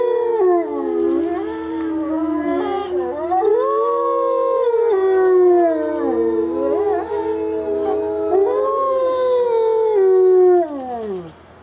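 A wolf pack howls together, with Malik and Shadow among the wolves, several long overlapping rising and falling howls weaving continuously for about eleven seconds, loud and close before fading out at the end.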